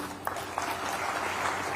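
Audience clapping at a public speech by a deputy chief minister, a dense, continuous wash of applause from a crowd throughout, with a couple of slightly sharper claps standing out.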